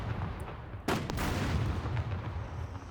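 In the SCUM video game, a mech drops a grenade that goes off in one sharp, booming explosion. The blast breaks through a low background rumble and is followed by a short rolling tail.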